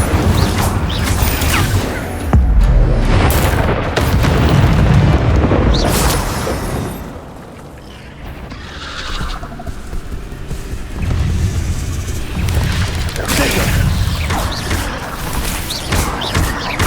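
Incendio fire spells burst during a spider fight on a bridge in Hogwarts Legacy, a loud, sustained roar of booming, fiery explosions and crashing impacts that dips briefly before surging again.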